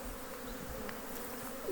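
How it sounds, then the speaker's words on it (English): A steady, close buzzing of many bees swarming together, continuous and fairly loud, without any voices. "And we'll see if the bees are showing a preference for shape."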